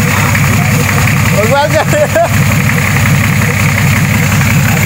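A Nissan TD42 diesel engine runs at a steady, loud idle throughout, a dense low rumble with a brief vocal outburst shouted over it partway through.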